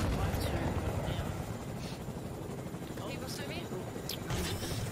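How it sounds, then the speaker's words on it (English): A helicopter in the Fortnite battle royale game thrums steadily in the background, its rotor noise fairly faint and continuous under a person talking, with a few scattered sharp pops mixed in. "There's also a helicopter."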